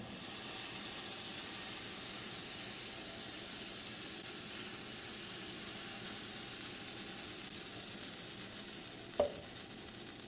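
Pancakes cooking on a stovetop for a vegan breakfast give off a steady, even sizzle and hiss with no talking, and a brief clink sounds near the end.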